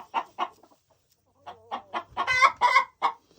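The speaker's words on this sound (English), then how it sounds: "she's squawking here" A chicken squawks and clucks in short bursts, a brief pause, then a louder, more agitated run of calls, close by.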